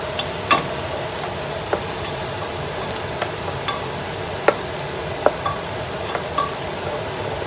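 Onion sautéing in a pot for chicken soup, a continuous even sizzle with occasional light clicks of a spoon against the pot, close and steady, no talking.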